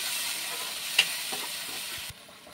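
Onion paste frying in a pan for an egg curry gives a steady, fairly loud sizzle with one sharp tick partway through, then the hiss drops abruptly quieter near the end.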